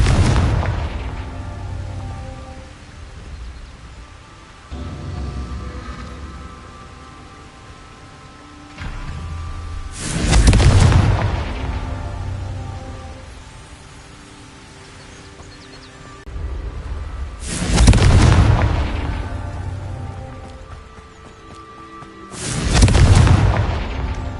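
Confringo explosion spells blasting in a Harry Potter video game during Merlin trials: three loud, booming bursts spaced several seconds apart, each rising over steady background music and decaying slowly.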